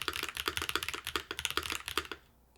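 Rapid, even typing on a Smurve80 mechanical keyboard kit, a close run of crisp clacky keystrokes in quick succession that stops abruptly near the end, with no talking.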